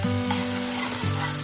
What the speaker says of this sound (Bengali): সাদা তেল নিয়ে নিয়েছি কড়াইয়ে, আদা কুচি আর রসুন কুচিটা দিয়ে দিলাম।